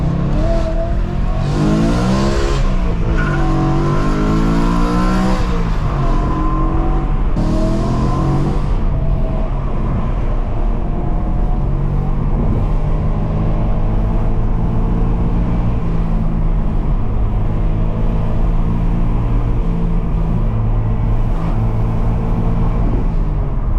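A BMW E92 M3 with a manual gearbox and its 4.0-litre V8 revs hard on the move, loud and close, with rising pulls and shifts in the first few seconds, then a sustained droning engine note.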